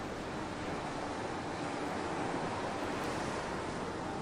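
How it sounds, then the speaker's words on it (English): Ocean surf breaking steadily on a beach, a continuous broad wash of waves with a soft rushing quality and light wind, fairly distant and even in level throughout, with no voices. "Listen to the waves."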